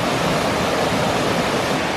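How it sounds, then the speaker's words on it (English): Water pours over jagged rocks in an aquascape waterfall, making a loud, dense, continuous rush that fills the whole short stretch without pause or voices. "flow of water going over the jagged rocks, creating that incredible sound"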